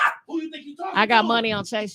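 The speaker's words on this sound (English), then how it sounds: "You better stop barking at me." A dog barks and yips close by in short bursts, tangled with a person talking loudly over it in a home during a live stream.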